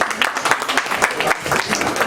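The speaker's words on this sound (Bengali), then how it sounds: "আসুন করতালি দিয়ে ওকে অভিনন্দন জানাই।" Audience at a Bengali community cultural fair in a New York condominium claps to welcome a tabla performer, a lively patter of individual hand claps with uneven rhythm, fairly close and clear.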